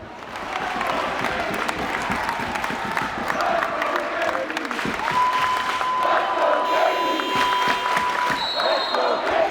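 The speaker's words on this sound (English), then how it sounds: "Crowd trying to get their team in it." Home crowd at a Braintree High School boys basketball game against King Philip roars steadily throughout, a loud sustained wall of cheering and clapping with a whistle-like tone in the second half.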